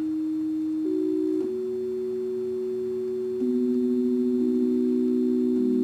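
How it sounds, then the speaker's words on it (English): Sustained pure electronic tones from a tube synthesizer keyboard, played as a few long held notes that step down and up in pitch, each clean and steady with no talking. "I'm just making notes on a keyboard right now"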